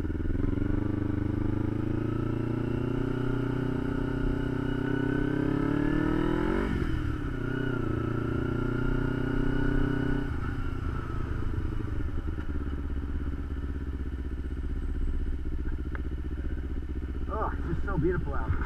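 A motorcycle ride toward NDSU, the engine droning steadily up close, revving and rising in pitch, then dropping back to a lower idle-like rumble with some clatter near the end; no voices.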